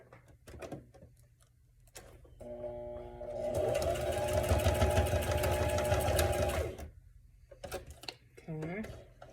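A sewing machine runs a quick straight stitch through a journal cover, a steady whirring burst of a few seconds. It comes between short stretches of talk and dogs whining in the room.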